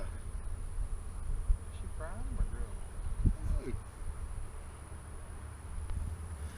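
Honey bees buzz around working hives in Florida, a dense, continuous close drone. People talk over the humming swarm.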